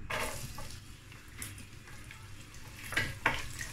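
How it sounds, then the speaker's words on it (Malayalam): Chopped garlic dropped into hot oil for vegetable fried rice sizzles faintly, with a soft continuous fry hiss, scrapes and stirring clatter of a utensil against the pan near the end. "ഇനി ഞാൻ ഇതിനകത്തേക്ക് നമ്മൾ അരിഞ്ഞു വെച്ചിരിക്കുന്ന വെളുത്തുള്ളി ഇടുന്നുണ്ട്"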